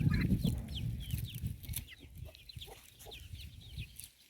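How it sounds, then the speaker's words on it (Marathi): Chickens cluck repeatedly at close range with a rooster among them, outdoors in an open field where pigeon pea crop has been harvested; short, busy calls overlap against low rustling background. "हा कोंबडा टपतो ना इकडे"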